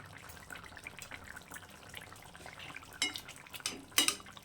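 Bhola fish curry with potatoes, garam masala and chopped coriander is stirred in a pan, giving soft scraping and faint sizzling, then a few sharper spoon-on-metal clinks near the end.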